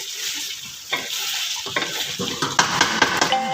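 Mutton karahi sizzling and frying in ghee in a pot, with a spoon repeatedly scraping and stirring against the bottom where the meat has started to stick, close and steady with sharp metallic clinks.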